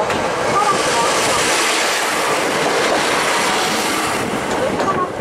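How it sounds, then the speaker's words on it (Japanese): A KTR800 series diesel railcar, wrapped in the Sea Kyoto livery, rumbles into a Japanese station with a steady, loud, broadband roar and faint rail clatter, while a recorded platform announcement plays in the background. "列車が来ました。 危険です。"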